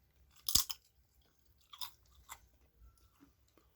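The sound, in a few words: crunching a toasted Mr. Tortilla low carb tortilla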